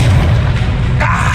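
Confringo fire spell exploding in Hogwarts Legacy mid-duel, a short, loud, deep boom with a dense low rumble and a brighter burst near the end.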